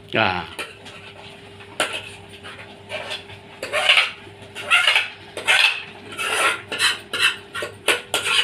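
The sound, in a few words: mixing ingredients together in a bowl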